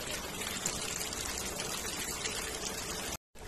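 Floodwater from heavy rain rushing steadily over the railway tracks at Dornakal station platforms, a continuous close pouring roar with no talk, briefly cutting out near the end.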